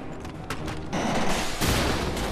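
Dense enemy gunfire fills a Batman Arkham Knight game scene with overlapping shots and booms, loud and continuous, building into a heavier volley partway through.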